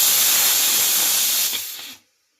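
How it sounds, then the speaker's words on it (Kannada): Steam from a pressure cooker whistle hisses loudly and steadily in a home kitchen, with a brief sputter near the end before it cuts off abruptly. "ಕುಕ್ಕರ್ ಸಿಟಿ ಅಂತೂ ಆಯ್ತಾ"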